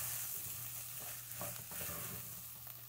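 Rice with saffron sizzles softly in a pan, a faint steady frying hiss with occasional stirring scrapes and no talk.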